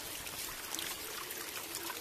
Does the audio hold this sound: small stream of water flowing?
yes